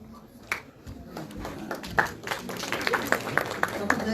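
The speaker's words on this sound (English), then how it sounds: "Please clap." Scattered applause from a closing-ceremony audience at a conference, a few separate claps building into sparse, uneven clapping over a background murmur of voices.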